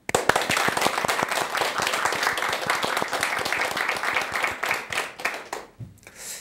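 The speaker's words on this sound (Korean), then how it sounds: "그런 큰 박수로 스님께 법문 청해 보겠습니다" A lively crowd at a Buddhist question-and-answer talk gives a big round of applause welcoming the monk, with thick, crisp clapping that holds strong for several seconds before thinning out and dying away near the end.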